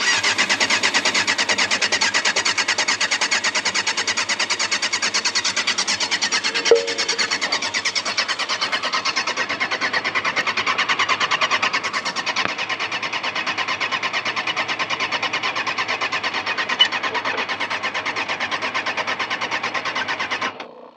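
A motorbike engine cranks over on a cold start attempt, with a long steady whirring drone that holds for about twenty seconds, a couple of sharp knocks breaking through, close and fairly loud.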